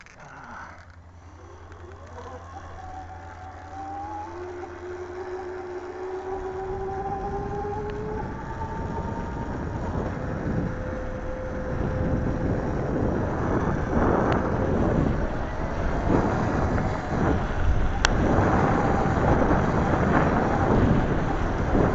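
Sur Ron Light Bee electric dirt bike riding, a steady rising and falling motor whine with rolling tire and wind rush that grows louder and rougher as the ride goes on, with no talk.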